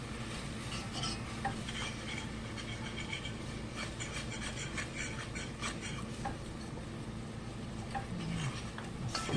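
Flour being stirred a little at a time into beef tips gravy in a pot, a steady close scraping and swishing of the spoon with a soft sizzle underneath, continuous throughout.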